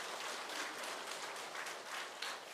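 A church congregation claps at a Parents' Day service, a soft, even wash of applause heard faintly and steadily throughout.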